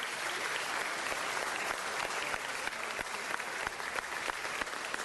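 Applause fills a city council chamber during a meeting, a steady, fairly soft wash of many hands clapping for several seconds, with no voices over it.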